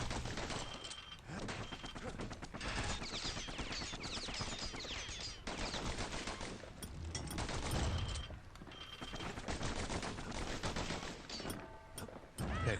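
Rapid gunfire from twin pistols in the action game Bastion, dense bursts of shots layered over game music and effects, steady and loud throughout.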